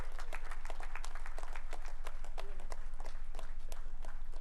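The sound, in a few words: audience applause for a donor at a convocation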